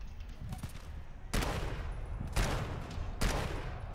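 Rapid automatic gunfire in the video game GTFO comes in three loud bursts, each ripping out abruptly and cutting off, with a quieter, rumbling game background between them.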